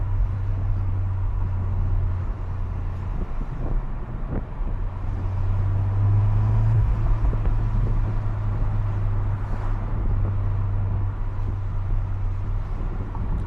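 Steady low engine and road drone inside an MK8 Golf R on the move, with a broad airy rush from the turbo intake. It holds at an even, fairly loud level throughout, with no talking.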